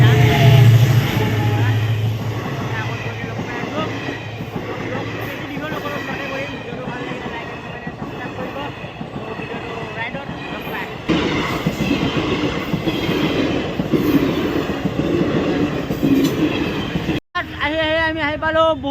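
A train rolls past a railway level crossing on a ride toward Panihati, a steady loud rumble of wheels and cars lasting throughout, with a sharp cut near the end and some voice mixed in.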